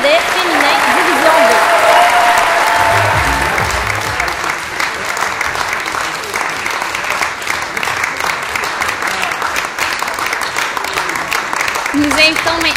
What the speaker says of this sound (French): Applaudissons chaleureusement notre équipe de soccer cadet féminin